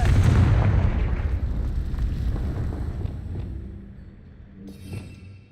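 A Confringo explosive spell blasting in Hogwarts Legacy: a loud, booming burst that rumbles and slowly fades over several seconds, ending in a faint crackle.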